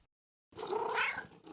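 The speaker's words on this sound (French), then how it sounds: "Maman et Caillou entendirent un miaulement discret." A cartoon cat gives one soft, drawn-out meow that rises and falls, heard alone and close after a brief silence.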